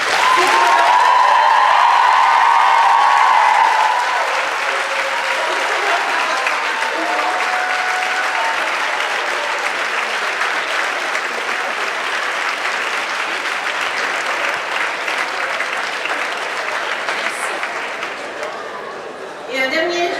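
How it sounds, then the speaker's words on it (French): A large audience at a Université de Sherbrooke graduation ceremony claps warmly for several seconds. The sound is loud at first, then settles into steady, sustained applause that fades toward the end. "Je vous propose donc d'applaudir chaleureusement celles et ceux qui vous ont"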